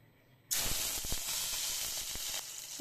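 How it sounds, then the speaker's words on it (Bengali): Rohu fish and bitter gourd hit hot oil and break into a loud, steady sizzle with crackling pops that continues without a break. "এখন এগুলোকে একটু তেলের মধ্যে ভেজে নিচ্ছি"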